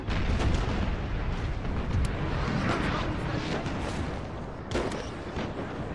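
Cannon and artillery fire in the video game Napoleon Total War booms in heavy overlapping bursts, a dense, loud barrage with sharper blasts near two and five seconds, and faint voices mixed underneath.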